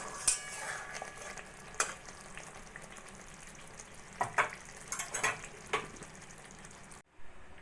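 Prawns in mustard sauce with slit green chillies being gently stirred in a pan, a few soft scraping strokes and light clinks over a quiet, faint simmer, ending in brief silence.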